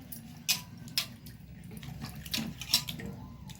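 Muddy yam tubers washed and rubbed by hand under a running kitchen tap, with a steady water hiss broken by several splashy bursts as the tubers are scrubbed, close by.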